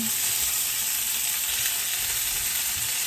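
Steaks laid on a bed of carrots sear in a hot pan, giving a loud, constant close-up sizzle that holds steady throughout with no talking.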